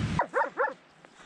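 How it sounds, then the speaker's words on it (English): Local dogs in the Georgian mountains barking, a burst of two or three sharp close barks in quick succession, then a faint distant yip as the sound fades. "the couple is being followed by local dogs. They just keep barking, keep following us."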